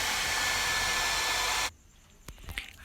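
A hair blow dryer runs at close range while drying hair after a rebonding treatment, giving a loud, steady whooshing roar. It switches off abruptly, leaving faint handling clicks and rustles.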